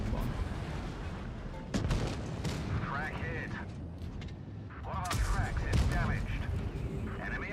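Booming tank cannon fire from the World of Tanks Blitz video game, including an HE shell shot, erupts in heavy blasts and rumbling explosions over game sound effects while someone talks throughout.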